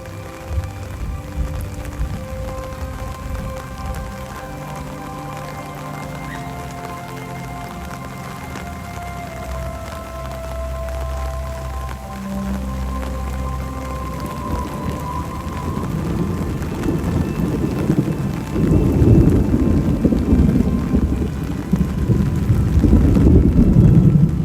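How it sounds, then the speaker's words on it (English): Heavy rain pours at a theme park during a Fourth of July visit, a steady broadband wash that swells louder toward the end, with low rumbles hinting at thunder and faint background tones. "every time it rains like this"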